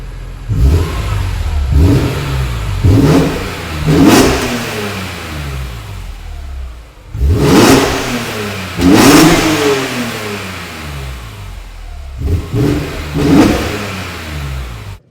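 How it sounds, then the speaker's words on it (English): A BMW E46 M3 on its stock exhaust revs hard several times from idle, each sharp rise in engine pitch falling back between blips, loud and close from behind the car with a raspy edge. "that's how the car sounds with some revs on the stock exhaust"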